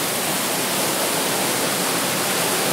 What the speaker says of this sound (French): qui est en fait une cascade qui résonne un peu dans ce bordel